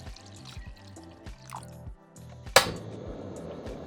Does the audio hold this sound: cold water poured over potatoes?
yes